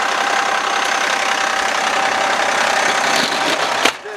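A fixed generator mounted on a fire rescue work vehicle runs steadily at idle, a loud, constant engine drone with a brief knock near the end.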